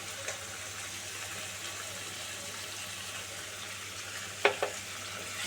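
Egg curry sizzles steadily in a pan after garam masala and a little ghee are added, a constant frying hiss broken by a couple of brief utensil clinks near the end.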